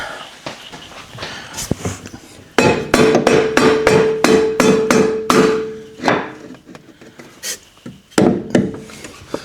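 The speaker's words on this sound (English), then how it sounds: "Gotta get the rubber mallet again." A rubber mallet taps a Paragon strut tower bar into place on a C8 Corvette, a quick series of about a dozen solid, close knocks in a steady rhythm after a few scattered handling clunks, then a few more strikes.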